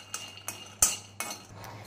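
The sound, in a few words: dry roasting peanuts in pan on low flame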